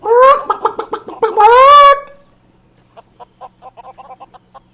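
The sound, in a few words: chickens clucking in a video game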